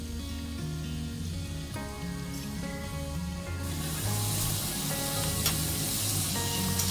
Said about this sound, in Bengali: পটেটো ওয়েজেসগুলো এপিট ওপিট করে হালকা বাদামি হওয়া পর্যন্ত ভেজে নিতে হবে